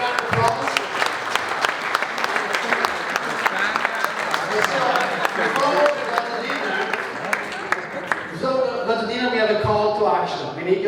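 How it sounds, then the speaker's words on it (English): Audience applause at a G20 event presentation in Genova, dense continuous clapping from a large crowd that carries on strongly before thinning out near the end, with a voice speaking over the final seconds. "Big round of applause."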